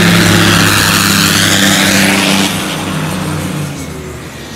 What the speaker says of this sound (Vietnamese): Cái âm thanh của động cơ này mình mà chạy gần gần mình cũng ớn luôn, sợ á.